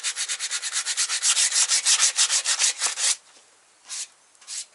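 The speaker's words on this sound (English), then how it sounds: "fix the lines so I have less stuff to sand down" Hand sanding of body filler on a VW MK2 engine bay, close-up, with about twenty quick, even back-and-forth scraping strokes in a steady rhythm, then a pause and two more separate strokes.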